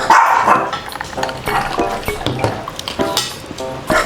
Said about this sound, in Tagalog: Nahingi po yung aso namin.